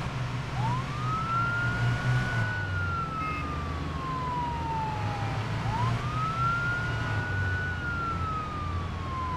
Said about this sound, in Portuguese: Liga a sirene.